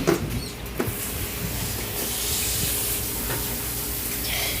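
Butter sizzling in a hot pan while cooking spaghetti sauce, a steady close hiss and crackle with a few sharp clicks and spits at the start, continuous and unbroken.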